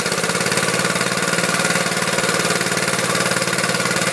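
Small gas engine on a Rigid portable air compressor running just after a recoil-start pull, a loud, close, fast, even chugging putter sustained throughout with no speech.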